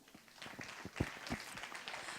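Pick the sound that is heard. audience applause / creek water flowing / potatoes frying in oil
audience applause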